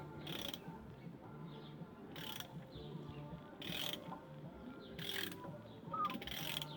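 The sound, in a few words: ratchet turning over Honda VFR750 engine by hand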